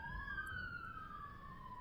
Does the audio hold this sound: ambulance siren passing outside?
yes